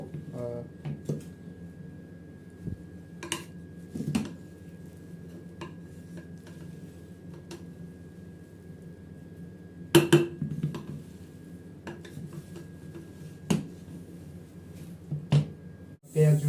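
Soya veg pulao being mixed with coriander leaves in a pot, with sparse scrapes and clinks of a spoon against metal over a quiet background hum, a few sharper knocks standing out.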